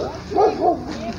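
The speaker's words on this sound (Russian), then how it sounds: "О, щеночки." Puppies yip and whimper close by, a couple of short high rising cries over a steady outdoor background.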